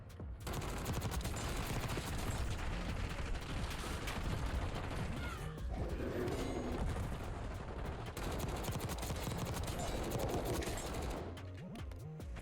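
A Grau 556 rifle fires in Black Ops 6 in dense, rapid bursts of gunfire that fill nearly the whole stretch, loud and continuous with brief lulls and no talking.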